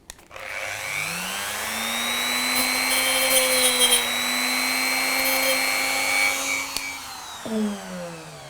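A power tool works on a model railway train coupling, whirring loudly and steadily for several seconds with a rising then level pitch, then winding down near the end.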